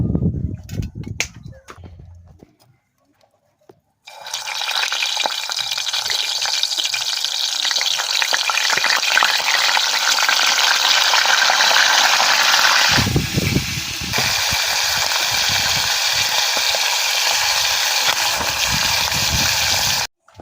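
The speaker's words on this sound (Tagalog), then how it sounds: "Magpiprito ako na isda na huli ni kananay." Fish caught by the speaker's mother sizzles loudly in a pan of hot oil, a steady broadband frying hiss that starts a few seconds in after some handling clatter and continues to the end, with a slight dip midway.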